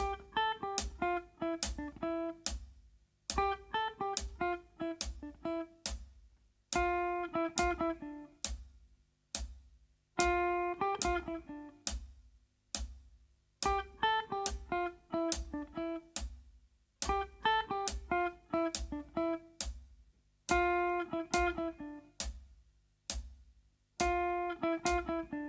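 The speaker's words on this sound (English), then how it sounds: "we're going to build a melody out of the notes from this scale" Slow pentatonic scale melody, plucked note by note in short repeating phrases with clear gaps between groups, each note ringing and decaying, fairly quiet and close with no voices.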